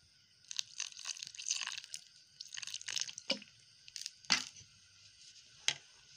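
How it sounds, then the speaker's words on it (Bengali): Half a cup of water poured into mango cake batter, heard as a series of close splashy drips and wet crackling bursts with brief pauses between them, no voices. "আমি আরো 1/2 কাপ জল দিয়ে দিচ্ছি।"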